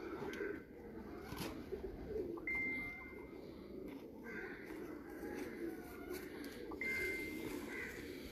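A champion racing pigeon coos softly at close range, low murmuring calls repeating over steady background hum, with a few brief higher tones drifting through.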